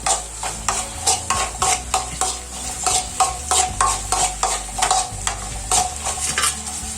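Ingredients for Kerala kesari being roasted and stirred in a pan, a spoon scraping and clinking against the metal in a steady, repeated rhythm over a soft sizzle, close and clear with no talk.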